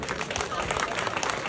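Audience applause at a wedding celebration, dense steady clapping from many hands heard close and continuous, with voices mixed in beneath.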